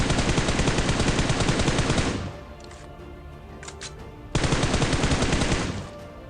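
Rapid AKM automatic rifle fire in PUBG Mobile, a loud close burst lasting about two seconds, a short lull with faint scattered shots, then a second sustained burst.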